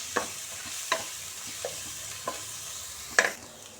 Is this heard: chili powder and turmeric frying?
yes